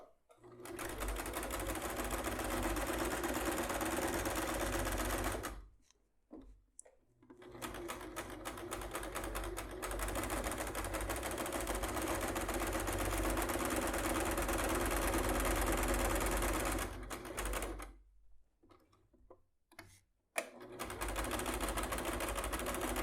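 A sewing machine stitches the lower edge of a fabric bag with a built-in zipper, running in long steady bursts broken by short pauses, close and loud with no talk over it.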